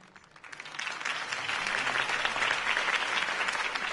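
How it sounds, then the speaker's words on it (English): Crowd applause in a Batman video game rises quickly and swells into sustained, dense clapping from a large audience following a campaign speech, with no talk over it. "could have heard that applause"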